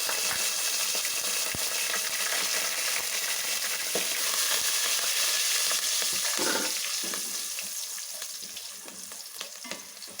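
Turmeric and curry leaves fry in hot oil in a pan with a loud, steady sizzle, and light stirring scrapes and clinks run under it. The sizzle eases slightly toward the end.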